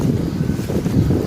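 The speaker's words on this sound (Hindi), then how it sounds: "तो गाइस यहाँ पर हवा चल रही है" Wind blows outdoors and buffets the microphone with a dense, low, rumbling roar that stays steady and loud through the whole moment, without any speech.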